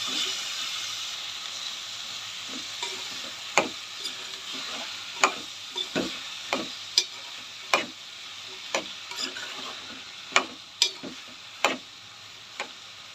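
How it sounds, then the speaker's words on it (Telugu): Tomatoes tossed with ginger, garlic and green chillies in a hot pan give a steady frying sizzle, punctuated by a series of sharp ladle clicks and scrapes as the mix is stirred. "ఇప్పుడు టమాటాలు వేసుకొని బాగా కలుపుకోవాలి"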